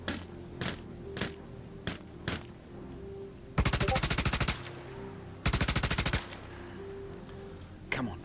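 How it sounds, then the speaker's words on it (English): Turret gunfire in the video game Star Citizen aimed at a stranded Caterpillar ship, with single loud shots early on followed by two sustained rapid automatic bursts, each about a second long, loud and close. "They're shooting at us from the turrets."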